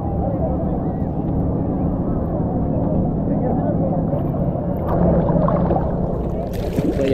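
A speedboat passes on the sea off Malpe Beach near Mangalore, a steady broadband engine and hull roar mixed with wind and water, swelling slightly louder toward the end with a few faint voices underneath.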